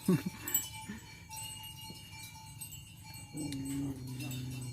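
Cattle wearing cowbells graze nearby, with scattered soft bell clanks and a low moo-like call, faint against rural background noise with possible murmured voices.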